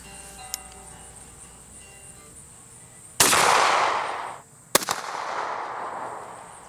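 Two loud, close shots ring out from a Turkish FedArm SS410 shotgun firing number 6 shot at 15 yards outdoors, each a sharp crack trailing into a long echoing decay, about a second and a half apart, with no talking.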